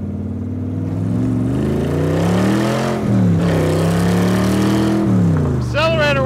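A 1965 Shelby Cobra engine pulls up through the revs at half throttle, its rising then steady harmonic drone loud and close for several seconds, with a brief shift dip midway and a falling whine near the end.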